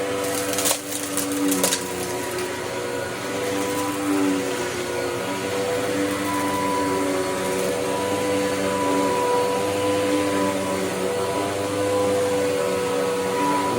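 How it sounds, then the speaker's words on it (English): A vacuum cleaner hums continuously at close range, with a few sharp crackles near the start as debris gets sucked up, then a steady motor drone. "Now we clean up this pile of dirt that came out of the vacuum steam."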